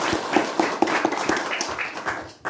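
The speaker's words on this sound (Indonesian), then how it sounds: "Kita tepuk tangan dulu untuk umat-umat Tuhan semua." Church congregation clapping together, a steady run of sharp hand claps with a rhythmic pattern, moderately loud and fairly close, tapering off near the end.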